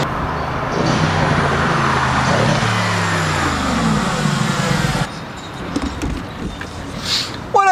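A 2017 Mercedes-AMG GT S with an Akrapovic Evolution exhaust on a racetrack, its engine roaring close by for about five seconds before cutting off into quieter ambient noise.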